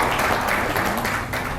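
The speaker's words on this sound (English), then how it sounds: "Let us all give us a huge round of applause." A keynote conference audience applauds together in a short, dense burst of clapping that stays steady and fairly loud, filling the hall without any voices standing out.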